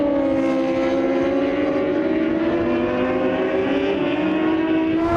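Race cars brake into Turn 8 at a circuit, their engines droning steadily with a sustained tonal whine that slowly shifts in pitch, heard continuously at moderate distance without talk.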